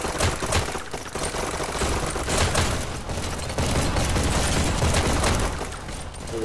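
A gun in the VR game Hyper Dash fires in sustained, dense bursts, loud and close, with shots blending into a continuous crackling roar for several seconds.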